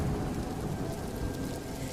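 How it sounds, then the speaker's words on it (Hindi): Heavy rain pours down on a dirt path at night, a dense, steady wash of noise that fills the whole moment without letup. "बारिश तेज हो गई।"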